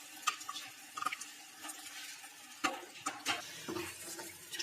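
Onion paste frying in a pan for a dhaba-style white chicken curry, with quiet sizzling and a few scraping stirs and clinks of a spoon against the pan, close but fairly soft.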